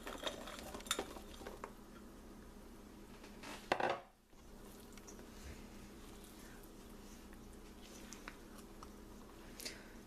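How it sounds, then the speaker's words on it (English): Halloween candy pieces gently folded into thick chocolate brownie batter in a bowl, faint soft scrapes and a brief louder clatter of utensil against the bowl, otherwise quiet. "Fold in your candy pieces."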